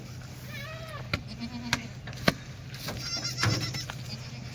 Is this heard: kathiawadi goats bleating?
yes